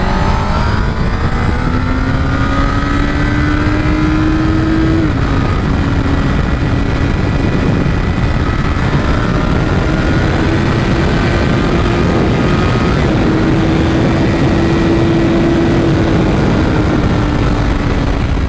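A Honda CBR1000RR sport motorcycle drones loudly and steadily under riding, its engine note rising and dipping slightly over a constant roar of wind and road noise, with no talking.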